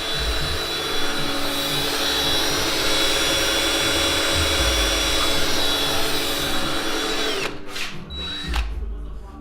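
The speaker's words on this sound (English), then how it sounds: "now we just have to drill the holes for the pins so they can stay there." A power drill bores holes for the pins that hold a newly installed rear wing on a race car, running loud and continuous with a steady whine before stopping in brief bursts near the end.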